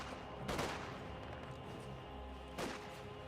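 Volksgrenadier rifles fire in the World War II strategy game Company of Heroes 2, two distinct sharp volleys about two seconds apart over a low battlefield rumble.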